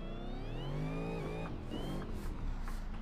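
A car in a drifting video game revs hard, its supercharger whine rising and falling in pitch over the steady engine drone, with tire squeal joining toward the end.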